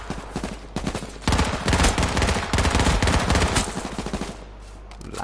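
Rapid bursts of automatic gunfire in the H1Z1 Battle Royale shooter, loud and dense, ramping up after a second and sustained through most of the stretch, with no talk over it.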